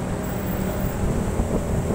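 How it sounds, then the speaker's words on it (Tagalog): Loud, steady wind in Tagaytay City buffeting the microphone, a constant roaring rumble with no voices. "Ang lakas ng hangin dito."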